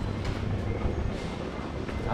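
A London Underground train rumbles at a station platform, a low continuous roar with faint clatter and brief squeals, while people's voices murmur in the background.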